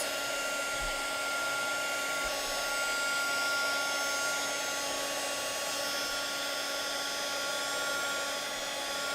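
A heat drying tool blows air over a handmade card with wet paint splats, giving a steady, loud whirring hiss with a high motor whine that runs without pause.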